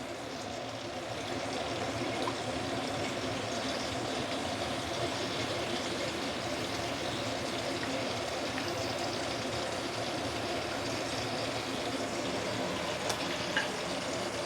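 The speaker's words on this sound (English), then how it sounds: "Let it boil." Steady bubbling and sizzling of sweet and sour sauce simmering in a pan, a continuous close hiss with a soft voice faintly underneath.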